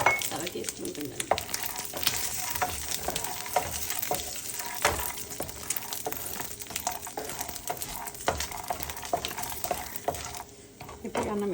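Dry chillies and peanuts sizzle and crackle in a hot pan while being stirred, a busy, close frying hiss with scraping and clinks throughout, no speech.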